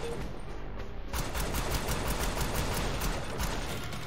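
Sustained automatic shooting in a video game, a fast, even stream of shots rattling on without pause for several seconds, loud and alone with no talk.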